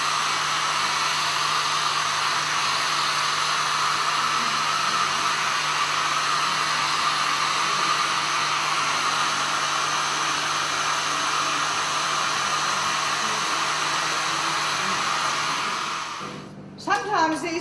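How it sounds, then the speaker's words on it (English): A hair dryer blows steadily at close range over a watercolour painting, a loud continuous whoosh holding for about sixteen seconds before it is switched off and a few small knocks follow. "I'm going to use the hairdryer or noise for a minute. Get those two dry"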